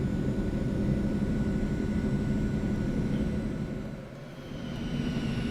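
An Eclipse 550 business jet in the X-Plane flight simulator taxis on the ground, its engines giving a steady, broad roar at high power that dips briefly near the end and then swells back.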